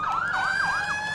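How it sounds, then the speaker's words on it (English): An electronic emergency siren from a fire truck in Farming Simulator 17 wails in a rapid rising-and-falling yelp, loud and steady, with no voices. "Now you guys can see it does have all of the sirens."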